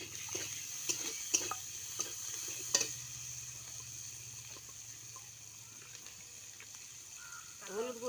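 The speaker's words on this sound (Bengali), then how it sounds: "পেঁয়াজ কুচি দিলাম, পেঁয়াজ কুচিটা একটু লাড়ছি," Chopped onion stirred in a hot pan for a village-style prawn curry with aubergine and lentil dumplings, giving a faint steady sizzle with a few sharp scrapes and clinks of the spatula early on.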